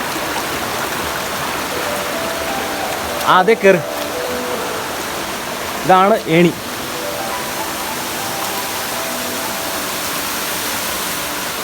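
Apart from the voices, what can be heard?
forest stream water flowing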